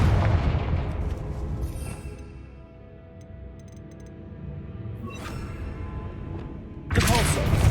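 A Confringo blast spell in Hogwarts Legacy lands as a booming, rumbling explosion that trails off into a low roar, then a second loud burst follows at the end, with game ambience underneath.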